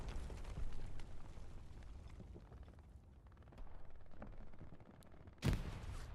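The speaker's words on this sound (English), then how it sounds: "Satchel goes off in the distance." A satchel charge goes off in the distance in the WWII video game Hell Let Loose, at Stalingrad's train station: a faint, low rumbling battlefield backdrop with one sharp blast standing out late in the clip.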